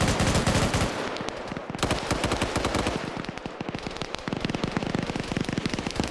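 Rapid bursts of M240B machine gun fire in a video game, loud sustained automatic rattles with short pauses and overlapping shots across the whole stretch.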